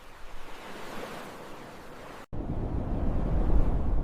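Ocean surf on the Pacific after a tsunami, a steady broad wash of breaking water that cuts out briefly and returns louder and rougher, with no voices.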